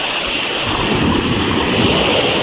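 Ocean waves at Qantab Beach in Muscat, Oman, a loud, continuous broadband surf roar with wind buffeting the microphone, steady throughout.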